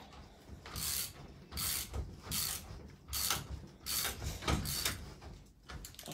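A ratchet tightens a hand wheel onto a studio or gallery quilting frame, giving about six rapid clicking bursts in an even rhythm, close and fairly loud, with no voices.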